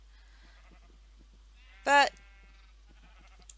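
A single short bleat from a sheep in a Minecraft-style modded game, loud and clear against quiet background, with a faint voice speaking softly around it.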